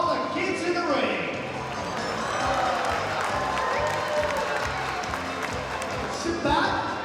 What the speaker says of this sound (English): How about a round of applause for all the kids in the ring?